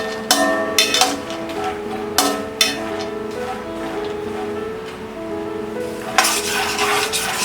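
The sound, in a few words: peanuts frying in a pan on low flame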